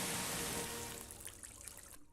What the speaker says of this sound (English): What's with the shooting of the water